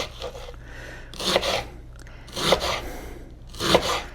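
Knife slicing a red onion on a cutting board for spicy pickled onions, with three or four close, crisp cutting strokes in a slow, steady rhythm and no talking.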